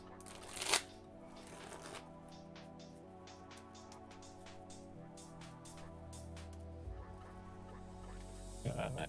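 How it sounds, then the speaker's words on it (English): Playing cards shuffled during a UniVersus card game event, a soft rapid riffling rustle over a steady background hum, with a sharp crackling burst near the start and another near the end. "I have to really make sure I shuffle"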